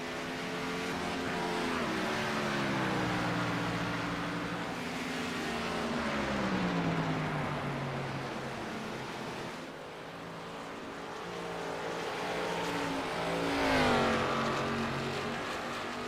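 Race cars roar through a lap at WWT Raceway in iRacing, a blended engine drone with rising and falling pitch as cars pass, steady and moderately loud, no talking.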